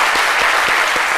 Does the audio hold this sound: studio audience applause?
yes